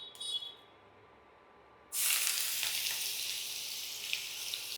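Onion paste hits hot oil in a pan and bursts into a loud, continuous sizzle close up, after a few seconds of near quiet with a brief clink at the start.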